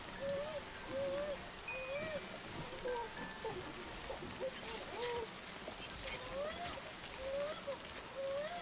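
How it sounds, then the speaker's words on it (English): Rain falls steadily in the video game Death Stranding as a constant wash of hiss, with a few faint tonal calls rising and falling through it. A voice talks over the rain. "it's kind of raining out"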